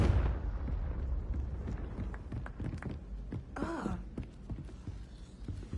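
Casting the Confringo blasting spell in Hogwarts Legacy sets off a rumbling burst, then a run of sharp cracks, thumps and a short whooshing flare of magic, all fairly close and loud.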